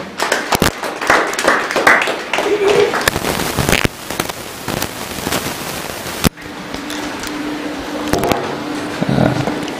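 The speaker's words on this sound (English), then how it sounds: "a round of applause for him" A crowd claps, a dense rattle of many hands that breaks off and resumes more thinly, with faint murmuring underneath.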